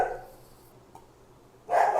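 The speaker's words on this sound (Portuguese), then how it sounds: "o meu cachorro está latindo aqui embaixo" A dog barking downstairs in a house, with a muffled bark at the start and a louder burst near the end, distant and indoors with quiet in between.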